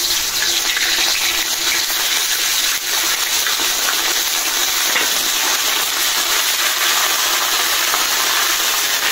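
Ginger garlic paste hitting hot oil for a chicken and pumpkin curry, producing a loud, dense, unbroken hiss of frying that stays steady throughout, with no talk over it.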